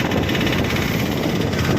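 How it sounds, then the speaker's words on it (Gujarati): Boat motor running while carried in an auto-rickshaw: a continuous, even engine drone with steady vibration, close and moderately loud, no pauses across the short stretch. "બોટની મોટર છે જો આમાં."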